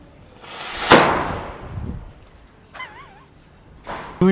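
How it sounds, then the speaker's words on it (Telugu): A gunpowder-loaded miniature toy cannon fires one sharp, loud bang that rings and decays, followed by fainter rustling and a few short clicks and noises afterward. "ఇవి నిజంగానే real miniature cannons, original Canon లాగే వర్క్ అవుతున్నాయి"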